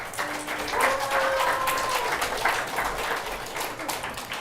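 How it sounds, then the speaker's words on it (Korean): A church congregation applauds to welcome a missionary to Ethiopia at a worship service, with steady, dense clapping from many hands that continues throughout at a fairly even level. "그런 의미로 박수로 환영하겠습니다."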